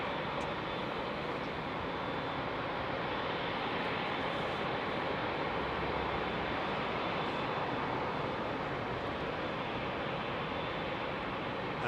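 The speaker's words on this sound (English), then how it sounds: "DHL 767. Now, follow the greens and listen to this as she comes out." A DHL Boeing 767 cargo jet departs Heathrow at night, heard as a steady, moderately distant engine roar that holds evenly throughout without voices.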